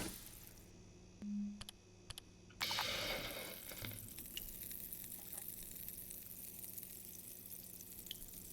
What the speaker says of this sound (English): I assume that sizzling, hissing sound is like a sign that the food is done.